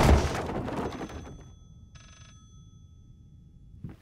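A telephone rings in the horror video game Layers of Fear. A short ringing burst sounds in an otherwise hushed room, after a louder rumble fades away.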